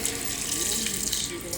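Water pours and splashes steadily over a Shiva idol during a riverside abhishekam at the Penna river, a continuous rushing close by with faint voices in the background.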